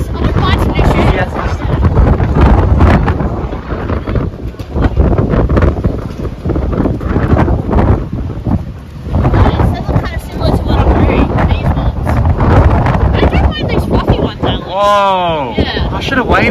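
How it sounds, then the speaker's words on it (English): Wind gusts on Takeshita Street in Harajuku, Tokyo, buffeting the microphone with a steady rumbling roar that runs the whole way through, with people talking over it. "The wind is blowing us in."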